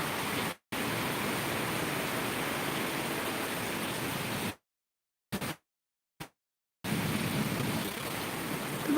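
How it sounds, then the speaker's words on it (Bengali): A downpour during a night storm hisses as a steady broadband wash of rain, cut by several abrupt stretches of total silence. "অজস্র ধারায় বৃষ্টি হচ্ছে অজস্র"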